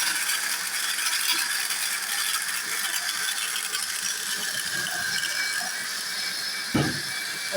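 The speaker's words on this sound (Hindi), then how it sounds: "तो अब इसको ग्राइंड करेंगे।" A mixer grinder whirs continuously at high speed while grinding mango for a shake, a loud, close, steady motor roar with rattling from the jar and a brief thump near the end.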